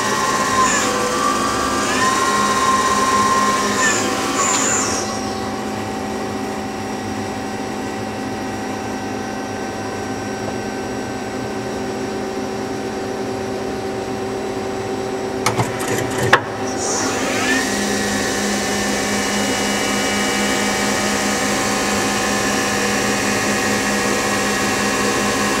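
A Mazak QT8 CNC turning center's spindle runs near 3,000 RPM, giving a steady high machine whine with a pitch shift at the start, a brief clunk partway through, and a continuous hum throughout.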